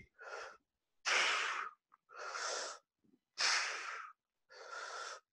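Heavy, effortful breaths during a core workout for lower back pain, five loud rasping exhalations in a steady rhythm with short pauses between, close and alone without talk.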